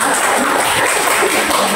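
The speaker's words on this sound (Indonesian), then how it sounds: "Beri tepuk tangan dulu pertanyaan." Audience applause at a school community health program session, a steady dense patter of clapping that fills the short moment at even loudness with no talk over it.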